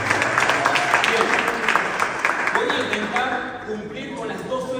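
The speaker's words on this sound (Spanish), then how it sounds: "que se den un aplauso a ustedes que llegaron a la meta" A church congregation applauds graduates at a graduation service, sustained crowd clapping that is loud at first and then gradually thins and fades.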